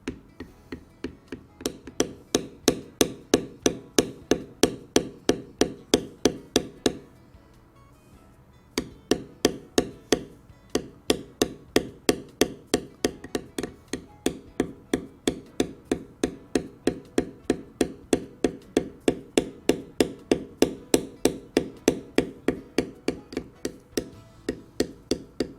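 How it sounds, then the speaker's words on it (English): Rapid, steady tapping of a small checkered leather beveler struck by a mallet, lightly outlining fin spines on a carved leather bass, a clear sharp rhythm of strikes with one short pause partway through. "Beveling very lightly to just outline the spines."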